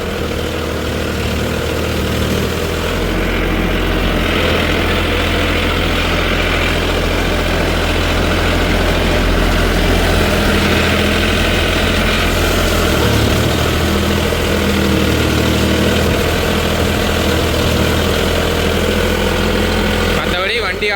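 A Mahindra OJA 3140 40 HP four-wheel-drive tractor engine idles steadily during puddling work, giving a continuous low rumble that stays loud and even for the whole stretch while someone talks over it.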